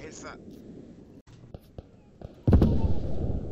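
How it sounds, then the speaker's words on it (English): An artillery shell explodes nearby in the WW1 first-person shooter Beyond the Wire, a sudden loud boom with a rumbling tail following a few sharp cracks and muffled voices. "Direct hit from artillery."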